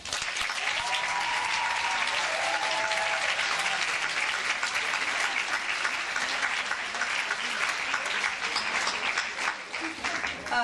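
Applause fills a hall at a model UN closing ceremony, dense clapping from a large crowd that holds steady at full strength for about ten seconds, close and loud.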